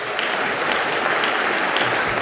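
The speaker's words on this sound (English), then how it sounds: "You can clap. Go ahead." A banquet audience claps steadily at a keynote event, a dense, even wash of many hands filling the room for a couple of seconds without a break.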